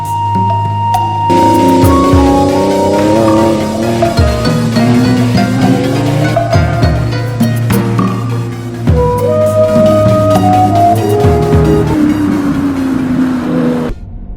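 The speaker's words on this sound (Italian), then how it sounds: "il V12 aspirato non è filtrato da niente, dai 2 tubi di scarico esagonali in coda esce un sound fragoroso" Lamborghini Revuelto's unfiltered naturally aspirated V12 roars loudly through twin hexagonal tailpipes on a track, with rising and falling harmonic sweeps as revs climb and drop across gear changes, continuous and close.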